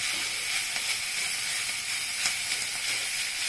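Chowmein noodles hit a hot pan of vegetables with a steady, bright sizzle and steam hiss, continuous and close, with a few faint clicks, no talking.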